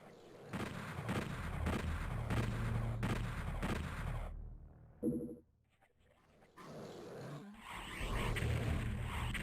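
Gunfire in the video game DOOM 64 booms in rapid, heavy repeated blasts mixed with roaring monster growls, dropping briefly into near silence midway before the loud barrage resumes.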